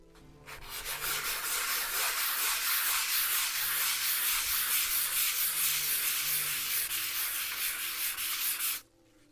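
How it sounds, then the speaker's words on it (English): Sandpaper wrapped around a wooden block rubs steadily across a surface in a painting workshop, producing a continuous, close, rhythmic scratchy hiss for several seconds that stops abruptly near the end. "take a block of wood, or a piece of 2x4, and wrap sandpaper around it like that"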